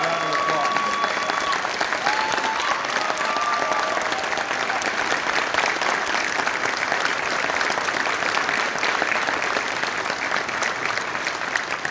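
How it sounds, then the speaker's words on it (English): A crowd applauds steadily, dense clapping sustained for several seconds, with a few voices and whoops mixed in. "Give us a round of applause."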